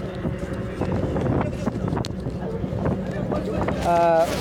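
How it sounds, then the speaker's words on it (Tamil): A mechanised motorboat engine drones steadily under rushing wind and water noise at sea, on a crossing to Katchatheevu island, close and continuous, with a brief voice near the end. "நாம் இந்த விசைப்படகு மூலமாக செல்கிறோம்"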